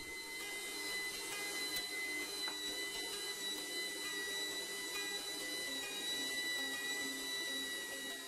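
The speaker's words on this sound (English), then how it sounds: "The mixer having hard time." A stand mixer labouring through thick cookie dough with almonds, cranberries and flax seeds, giving a steady strained motor whine with a high tonal hum, fairly faint and continuous, with no talk.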